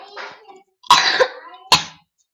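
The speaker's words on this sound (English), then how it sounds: "I've had a cough for a while." Three quick coughs, close and fairly loud, the last two harsh and abrupt with short silences between them.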